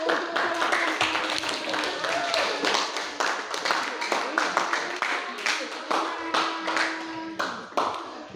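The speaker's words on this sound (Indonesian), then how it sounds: "kita beri aplaus untuk" Classroom applause during an Indonesian-language lesson at a junior high school, a burst of scattered hand claps that keeps going at a steady, uneven pace for several seconds, close and fairly loud.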